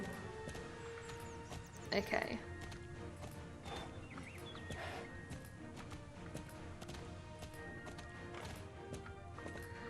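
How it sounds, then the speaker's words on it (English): Hooves clip-clop steadily as a horse moves slowly in the Star Stable video game, a continuous rhythmic patter under game music, with a brief voice and a couple of louder bursts. "My horse is going super slow."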